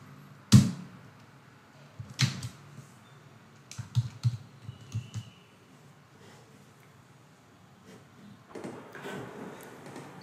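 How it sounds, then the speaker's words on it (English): Sparse typing on a computer keyboard while writing C# code in VS Code, a handful of soft clicks and short keystroke clusters spread across a quiet room, with one sharper tap at the start. "So if I type the console class as in console dot"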